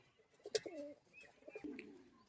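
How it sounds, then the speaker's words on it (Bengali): Giribaj pigeons coo in short soft bursts at close range, a couple of throaty calls with faint flutter between them, quiet overall. "সব গিরি বাজ পায়রা দেখুন আর এগুলো একবার ছাড়ি"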